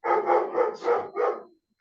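A dog barks about five times in a quick, fairly even series, close and moderately loud, with no talk and brief silence after the last bark.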